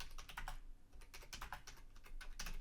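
Fingers typing on a small laptop keyboard, a quick, soft, uneven patter of key clicks heard up close with no voices.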